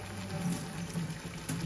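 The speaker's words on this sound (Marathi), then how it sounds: "थोडंसं पाणी घालते" Water is poured into a pan of paneer masala on the stove, a short steady splashing pour heard up close.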